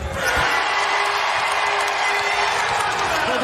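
Crowd cheering in a basketball arena during a Louisville vs Virginia Tech women's college game, a sustained loud wash of voices and roar throughout, with commentary faintly underneath.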